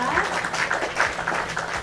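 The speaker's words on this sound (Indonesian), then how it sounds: "kita berikan tepuk tangan untuk kelompok 4" A class claps for a student group after a presentation, a steady spread of hand clapping throughout, mixed with voices talking over it.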